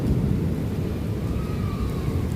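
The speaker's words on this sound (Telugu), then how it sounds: "ఓ మై గాడ్, ఉరుముతోంది కూడా." A low thunder rumble rolls under steady heavy rain, continuous and broad, with a faint higher tone drifting through the middle; no voices.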